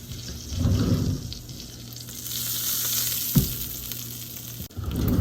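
Steady sizzling and crackling of melted butter in a hot pan, fairly close, with a brief clatter of a utensil near the end.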